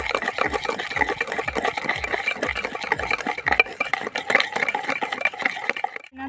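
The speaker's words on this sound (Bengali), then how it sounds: "আমার এটাকে নাড়তে থাকতে হবে।" White oil being stirred into cake mixture in a bowl, a fast continuous rhythmic scraping and clinking of a utensil against the bowl that runs for several seconds and stops abruptly at the end, with no talk.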